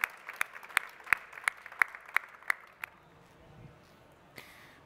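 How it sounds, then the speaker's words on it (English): About nine slow, evenly spaced claps ring out at a climate change panel session, then fade into quiet room noise. "a big round of applause to our fantastic panel"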